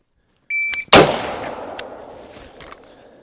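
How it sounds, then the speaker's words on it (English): A single loud rifle shot cracks sharply and booms into a long decaying echo, preceded by a brief tonal electronic beep, with no speech. "So this gun rips. Like I really enjoy shooting this thing, and the recoil impulse is extremely pleasant."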